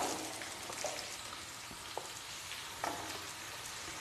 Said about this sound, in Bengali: চাল কুমড়ো আমি 2 মিনিট ভেজে নিয়েছি।